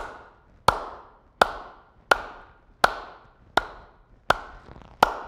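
Group cupped-hand clapping (kuombera) in Zimbabwean music: seven sharp, hollow claps in a steady, evenly spaced beat, each ringing briefly before the next, heard alone and up close.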